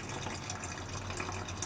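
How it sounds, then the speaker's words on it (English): Brewing liquid drains from an upside-down Braumeister 20L lid through a vent hole into a bucket, a steady close trickle and splash of water running continuously without pause. "On the lid that's upside down over one of the vent holes, and it just drains into a bucket."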